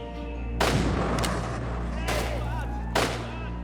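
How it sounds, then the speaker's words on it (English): Gunfire in a reenacted shooting inside a shopping mall: three loud, sharp broadband blasts spaced about a second apart over a steady low hum, with faint talk beneath. "She just came in firing indiscriminately."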